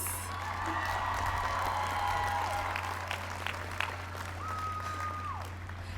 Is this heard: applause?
yes